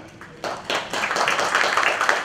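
An audience at a forest certification discussion forum breaks into applause for a panelist, the clapping starting thinly and quickly swelling into a steady, close patter.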